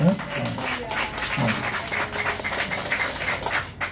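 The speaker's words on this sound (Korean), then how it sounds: "박수로 환영을 하겠습니다" A church congregation claps to welcome a guest, a steady wash of applause running the whole time while a voice speaks over it.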